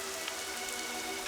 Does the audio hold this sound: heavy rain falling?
yes